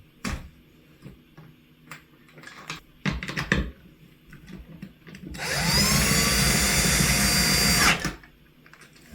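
A power drill whirs for about three seconds as it drives in a screw, loud and close, after scattered clicks and handling knocks; no one speaks.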